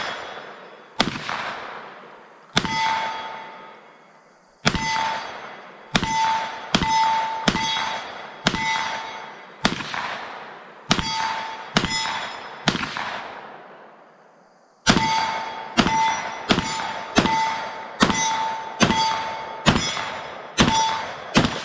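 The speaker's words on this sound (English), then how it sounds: "Now we're just going to try to enjoy shooting it a little bit." Ruger PC Carbine fired at an outdoor range: sharp, loud gunshots with long reverberant tails, each paired with a bright metallic ring from a steel target downrange, first spaced apart and then coming in faster strings.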